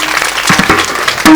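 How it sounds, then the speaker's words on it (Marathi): Brief burst of audience clapping at a kirtan in Bolthan marking Shri Sant Gajanan Maharaj's manifestation day, a short, near wash of applause lasting about a second. "त्यांच्याकरता आपण टाळी वाजूया."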